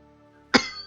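A single sharp cough bursts out close to the microphone after a quiet moment, trailing off into a faint hum.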